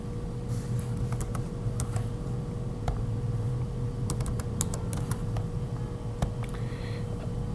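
Keys clatter on a computer keyboard in bursts of quick, light clicks with short pauses between them, close and clear over a low steady hum, no voices.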